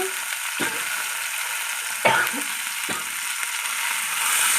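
Garlic fish fries in a pan with a steady bright sizzle, broken by a few sharp clinks and scrapes of stirring utensils.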